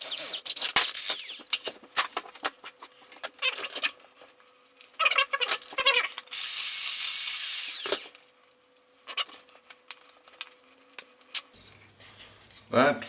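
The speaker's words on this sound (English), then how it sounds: "And drill away." Power drill boring into sacrificial wood while building a primitive blacksmith's bellows, heard in several close bursts of whirring with a sustained stretch, separated by clatter and handling noises.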